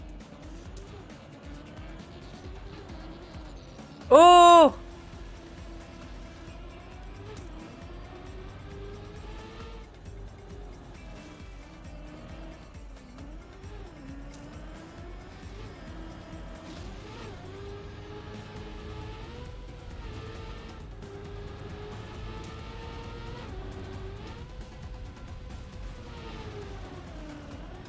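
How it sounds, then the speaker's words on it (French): Race cars in Trackmania hum and whine continuously with shifting engine pitch as they drive in a crowded pack, with a brief sharp burst early and a single short exclamation. "il commence à y avoir beaucoup de voitures ici"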